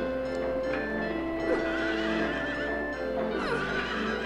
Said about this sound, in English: I gotta kill these horses.